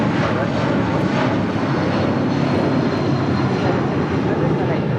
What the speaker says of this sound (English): runway 25 right, ready to take off.